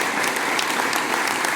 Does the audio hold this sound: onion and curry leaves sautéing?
no